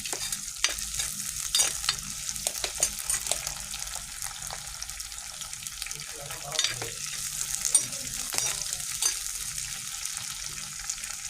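Curry leaves frying in a pan for a beef roast, stirred throughout: a soft, steady sizzle with frequent sharp crackles and spatters and scraping of the spoon, close by.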